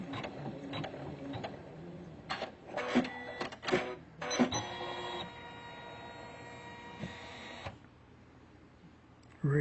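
A Usha Janome Memory Craft 550E embroidery machine stitches out a design with rhythmic mechanical clatter and gear ticking, louder bursts early, then a steadier quieter hum that fades before a final thump.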